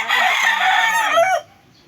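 A single loud, drawn-out chicken call close by, lasting over a second before cutting off into near silence.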